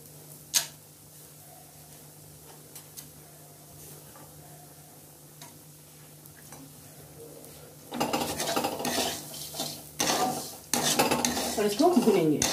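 Semolina and chopped cashews are stirred and roasted in a pan, first quiet with a single clink, then a run of scraping and clattering spoon-on-pan strokes in the latter half, no talking.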